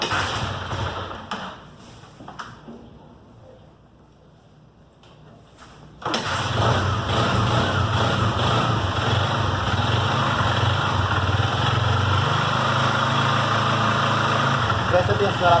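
A Honda Fan 125 motorcycle engine starts after a quiet pause with voices, then settles into a steady, close idle with a persistent rattling noise.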